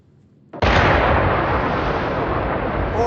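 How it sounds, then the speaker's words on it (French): A double explosion in the Melon Sandbox video game, heard as a sudden loud blast that swells into a sustained rumbling roar lasting several seconds after a quiet start. "Ça fait double explosion."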